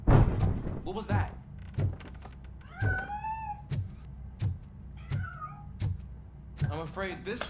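A cat meows several times, rising and falling cries spaced a few seconds apart, over a steady pattern of dull thuds and mechanical clunks in a game scene.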